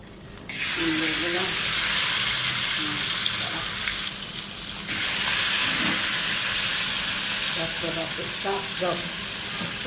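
Koi fish fry in hot oil with a loud, continuous sizzle and hiss, surging louder after a brief quiet start, while faint voices murmur underneath.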